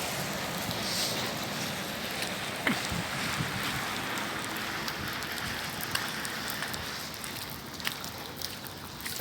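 Rain falls steadily on surfaces in Dubai, a soft, continuous patter with occasional louder drops, heard without speech.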